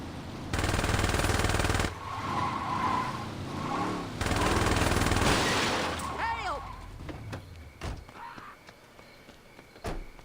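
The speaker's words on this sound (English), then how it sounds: "you got a crazy gangbanger shooting at you" Rapid bursts of automatic gunfire come from a gangbanger in the Saints Row 2 video game, loud and sustained in long volleys that break off, followed by scattered single shots and clatter.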